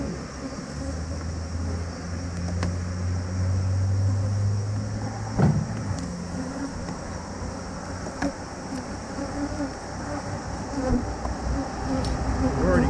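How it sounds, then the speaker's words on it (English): Steady droning buzz of many honey bees close by at a hive during a honey harvest, a dense continuous hum with a few louder passes and light knocks. "Get all the bees out."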